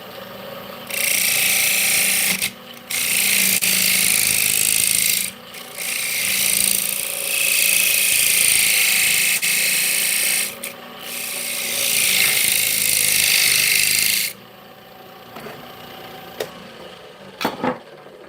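Rasping, rubbing cuts as the outside edge of a pine piece is trimmed down to fit a socket, steady sustained strokes with short pauses, fairly close, stopping near the end.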